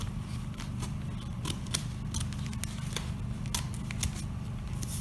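Scissors snip through fabric while a men's shirt neckline is cut, giving a series of sharp, irregular close-up cuts over a low steady hum.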